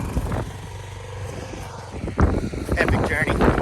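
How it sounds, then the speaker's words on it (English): Strong wind buffets a microphone on a mountainous Dominican Republic coast during a dirt bike ride, a steady low roar and rumble, with people talking over it. "it's blowy out here"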